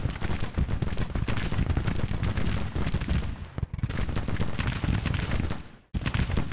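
Artillery fires steadily on a Grand Tactician battlefield, a dense, continuous roll of booming reports and crackling volleys that stays loud throughout, with two brief drops before the barrage resumes.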